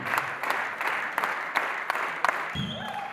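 Audience applause at a film premiere, a steady wash of clapping from a sizeable crowd with scattered whistles, fading as a voice begins near the end.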